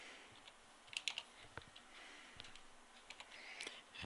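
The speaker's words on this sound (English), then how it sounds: "So when they get here, they will type in Tim" Keys tapped on a computer keyboard while entering login details, a quiet run of light, uneven clicks with short pauses between bursts, alone with no talking.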